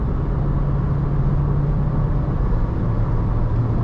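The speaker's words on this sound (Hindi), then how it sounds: "इंजन से भी नॉइज़ बढ़ गई अब और गाड़ी में भी नॉइज़ ज़्यादा है" Inside a moving Honda City with a noisy engine, a steady, loud engine drone and road rumble fill the cabin without a break.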